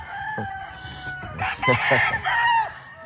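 A white agila fighting cock crows loudly and close by, one long harmonic crow rising and falling over about two seconds, with some faint clucking and background farm noise before it.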